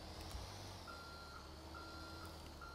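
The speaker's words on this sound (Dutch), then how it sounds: "En mijn pieper gaat." A firefighter's pager in GTA 5 roleplay emits faint, repeated electronic tones in short regular bursts over a constant low engine hum.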